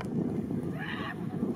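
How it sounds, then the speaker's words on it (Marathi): At a Diwali horse and bullock-cart race on an open ground, a horse gives one clear, mid-distance neigh of about a third of a second over steady crowd and wind rumble. "तो बी घोडा बाहेर ओढतोय"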